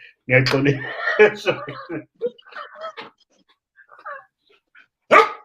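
A dog makes a run of close, excited barks and whimpering yips, then goes quieter, and gives one more sharp bark near the end.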